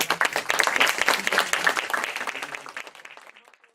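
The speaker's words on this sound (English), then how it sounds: "let the lecture ends with a big applause" Enthusiastic audience applause closing a lecture at a themed workshop, brisk dense clapping that holds steady and then tapers off and dies away into silence.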